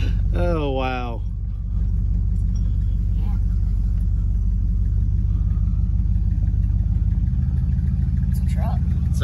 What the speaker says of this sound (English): Gassing it.